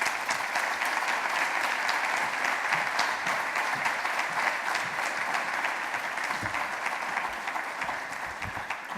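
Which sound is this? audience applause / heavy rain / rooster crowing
audience applause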